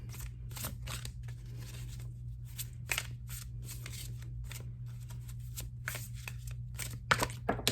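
Tarot cards are shuffled in repeated quick riffling bursts, close and crisp, over a steady low hum.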